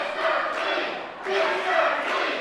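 Wrestling event crowd at an APWF show roars in a steady broad wash, swelling loud in two waves with a brief dip in the middle, with shouts and cheers blended throughout.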